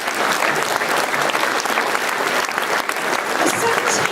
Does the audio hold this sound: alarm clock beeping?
no